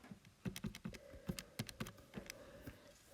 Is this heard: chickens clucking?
no